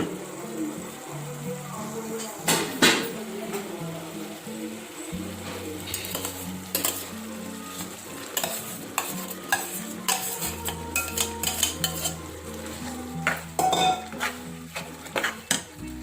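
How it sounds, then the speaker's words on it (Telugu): Gongura leaves are stirred into a prawn curry in a pan, with repeated metallic clanks and scrapes of a spoon over a faint simmering sizzle. "ఇప్పుడు గోంగూర కలుపుకుందాం"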